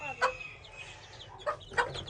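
Hens with chicks cluck at close range, with a few short, louder clucks standing out against a quiet farmyard background.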